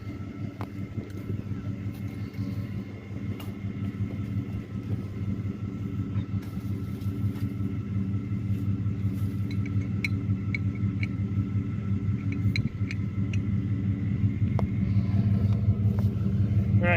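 A pickup truck engine rumbles in a low, steady drone while pulling ahead to drag a 15,000-pound hay bale off a trailer, gradually growing louder with faint clanks over the continuous idle.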